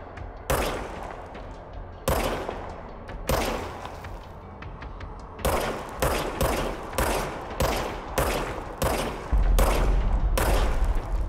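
Gunfire in the video game Control, with bursts of loud shots in irregular clusters that grow denser toward the end, with a sustained rattle at the close and no talking.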